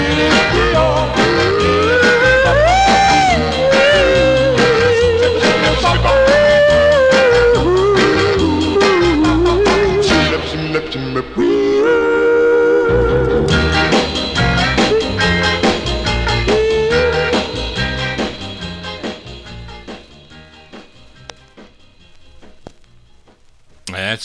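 A 1961 doo-wop record on the Bargain label plays loud and continuous, lead and harmony vocals over a backing band, fading down toward the end.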